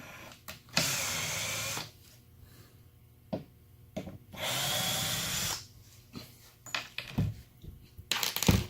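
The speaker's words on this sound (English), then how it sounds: "Alright, so I'm going to go on and back these screws out." A power driver backing screws out of a homemade chainsaw chop saw, two sustained whirring bursts of a few seconds each separated by clicks and handling knocks, close and fairly loud, no speech.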